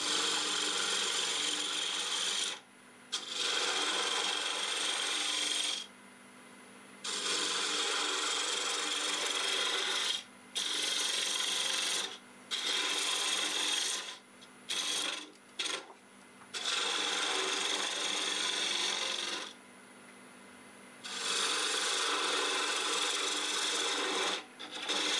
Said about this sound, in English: I'm going to use my half-inch bowl gouge.